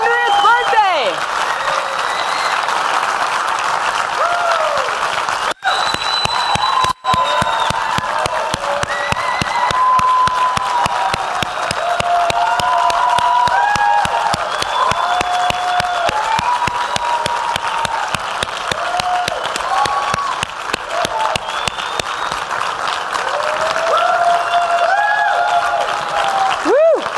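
A large audience claps steadily and loudly throughout, a dense wash of applause with a few scattered shouts rising above it.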